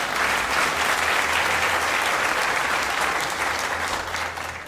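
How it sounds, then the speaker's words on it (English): Sustained audience applause for museum staff at an art museum opening, a steady, dense crowd of clapping hands that continues throughout and eases slightly at the end. "And you can clap for them as well."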